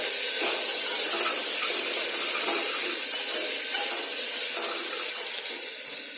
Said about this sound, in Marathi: ही आलं लसणाची पेस्ट ही ताजी करून घेतली आहे ती टाकून द्यायची आलं लसूण चांगलं परतून घ्यायचं